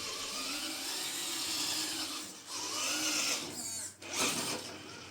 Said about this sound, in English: you can hear it just rubbing just a little bit